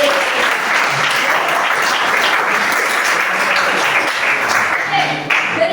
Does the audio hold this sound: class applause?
yes